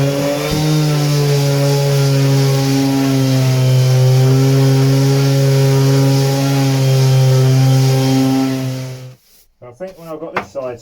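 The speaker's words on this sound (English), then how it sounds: "This side I'm sanding away more gel coat than fiberglass" Power sander working on fiberglass and gel coat on a boat hull, a loud steady droning whine that holds for about nine seconds before cutting off, with brief talk following.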